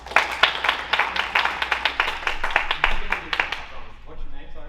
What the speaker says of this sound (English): Can I get some applause for him?